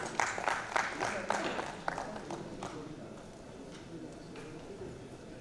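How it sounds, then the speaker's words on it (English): Scattered hand claps from a business conference audience at an industry dialogue event, a few sharp claps near the start that thin out and fade into a quiet room. "Can we have a huge round of applause, everyone out here?"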